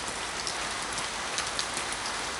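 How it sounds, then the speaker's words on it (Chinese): Heavy evening rain pours down in a dense, steady hiss of countless drops striking surfaces, constant and loud throughout with no voices. "落大雨咯。"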